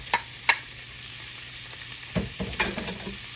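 Onions and garlic hitting an oily pan of drippings, a steady background sizzle punctuated by sharp spoon taps early and a cluster of scraping stirs later on.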